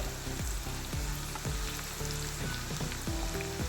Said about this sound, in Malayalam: വെളുത്തുള്ളിയും പച്ചവളവും ഇഞ്ചിയും നന്നായിട്ട് വഴറ്റി വന്നിട്ടുണ്ട്